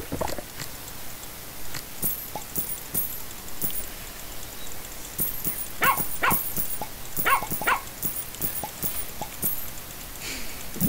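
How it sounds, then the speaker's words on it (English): A dog barking in the garden video game Plantera, heard as short, repeated yaps and bites scattered over steady background game ambience, with no talking. "I've got a little dog that bites people."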